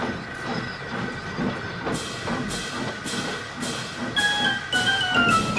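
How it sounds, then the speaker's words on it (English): A cartoon steam train chuffs in regular bursts of hiss, gradually joined by a high whistling tone, with a rumbling mechanical background. "Bethany watched Edward and the circus slowly chuff away"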